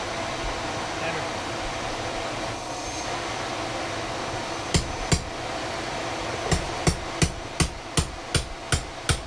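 A hammer strikes repeatedly while boards are pried off, first two separate knocks, then a steady series of sharp, evenly spaced blows, over a constant humming background.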